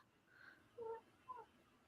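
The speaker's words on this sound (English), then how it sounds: "Yeah, he's meowing. Meow, meow." A house cat meows twice at night, short tonal cries a moment apart, moderately close in a quiet room with a faint steady background hiss.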